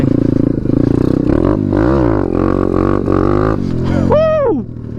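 A Chinese pit bike engine revs hard and close during a wheelie attempt, a loud buzzing roar climbing and dipping in pitch through the throttle, then rising sharply and cutting off near the end.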